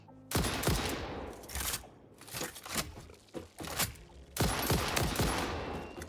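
Rifle fire in the video game Satisfactory, heard as bursts of loud, close shots in two main volleys with scattered single cracks between them, no talking.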